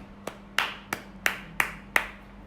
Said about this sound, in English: Do you want to clap? Come on.